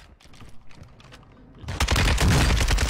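Video game gunfire bursts in loudly after a quieter stretch of clicking, with rapid overlapping shots and heavy firing continuing to the end.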